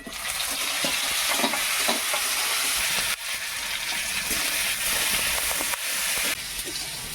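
Onion and tomato fry in a pan with a loud, continuous sizzle and hiss, broken by a few brief dips as the pan is stirred.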